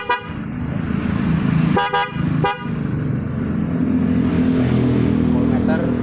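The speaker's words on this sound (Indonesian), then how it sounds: "Untuk klaksonnya Denso waterproof double tone" Several short honks from a Denso waterproof double-tone horn fitted to a Honda CB150R motorcycle, three quick blasts standing out over a steady idling engine and background rumble.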